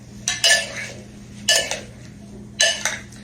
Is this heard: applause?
no